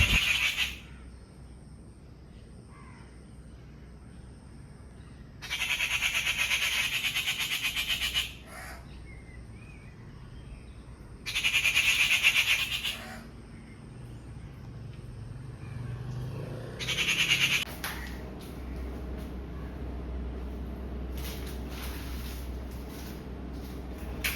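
Unidentified birds call outdoors in three loud, bright bursts of a few seconds each, separated by quieter stretches over a steady low background hum.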